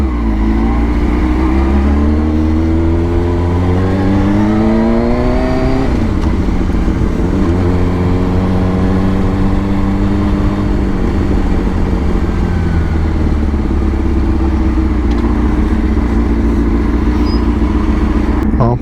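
A motorcycle riding along a road, its engine droning loud and continuous with rising and falling pitch as it accelerates and shifts, wind rushing past the helmet microphone.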